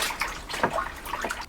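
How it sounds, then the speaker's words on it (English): Water pours and splashes into a beer kit fermenter to top up a pilsner brew, a short gurgling, sloshing stream close by with no talk. "just top it up with water"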